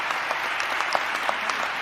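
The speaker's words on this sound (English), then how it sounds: "let's all collectively give them a round of applause, our elected officials" Audience applause for elected officials at a health care announcement press conference, a steady wash of clapping from a crowd with scattered sharper claps, continuous for about two seconds.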